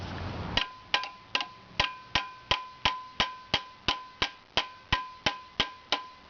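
A hammer repeatedly strikes a seized German Heuer Front 175 bench vice, about sixteen sharp metallic clangs at a steady rhythm, each ringing briefly before the next, close and clear with no talk.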